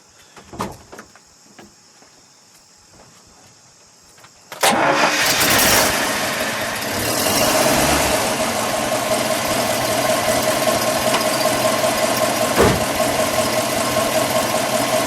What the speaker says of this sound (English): Let's start it so we can see the mechanism working on the carburation here.